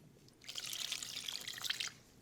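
Beef bouillon water poured into a crock pot set to high makes a soft, steady trickle lasting under two seconds, faint and close with no talking.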